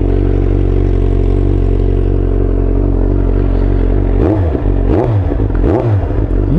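A motorcycle engine with the exhaust baffle removed idles loud and steady, then blips through three sharp revs near the end, each rising and falling quickly with a raw, open exhaust tone.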